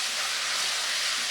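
Paprika and steak seasoning cook in a hot pan for a steak and kidney pie, giving a steady, close, bright sizzling hiss with no talking.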